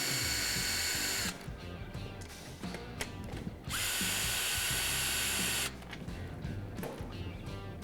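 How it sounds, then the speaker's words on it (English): An electric screwdriver removes bolts from a Vance & Hines motorcycle air cleaner, with close whirring bursts of two long runs separated by quieter clicking and handling noises, and no speech. "If you don't have an electric screwdriver, just feel free to use a normal socket wrench."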